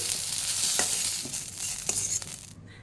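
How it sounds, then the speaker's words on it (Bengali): Potatoes seasoned with salt and turmeric fry in hot oil in a kadai, a steady close sizzle broken by a few light stirring clicks before it cuts off. "আলুগুলো আমার হালকা লাল করে ভাজা হয়ে গেছে"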